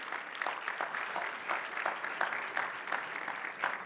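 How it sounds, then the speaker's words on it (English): Audience applause at a European conference session on protecting creativity, welcoming an IP law professor; steady clapping from a room of listeners, moderately loud and continuous for a few seconds with no talk over it. "give her an applause already, why not?"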